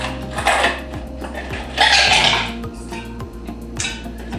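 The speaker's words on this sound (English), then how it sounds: "Then you're gonna add some ice." Ice cubes clatter and clink into a metal Boston shaker holding a Negroni of three equal spirits, in two or three loud rattling bursts with faint clinks between them.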